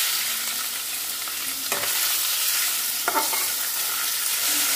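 Chicken pieces frying in a pan with garlic, a steady close sizzle throughout with a couple of brief stirring scrapes.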